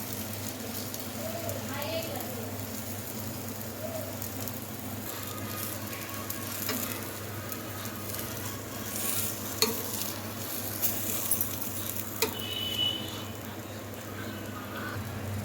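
Vegetables sizzling and being stirred in a hot pan for masala dosa filling, a continuous crackling fry with scraping stirs and occasional louder clatter, close by.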